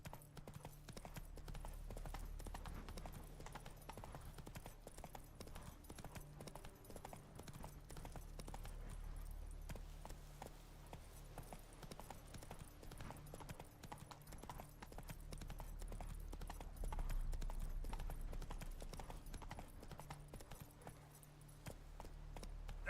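Video-game horse hooves gallop in a quick, continuous clip-clop rhythm that runs throughout, quiet and somewhat muffled, with possible faint voices in the background.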